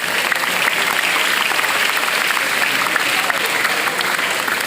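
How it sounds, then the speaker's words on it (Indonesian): An audience at a family gathering applauds, a dense, steady wash of clapping that holds at an even level for the whole stretch with no pause, filling the room on its own. "Tepuk tangan untuk Latansa di Indonesia"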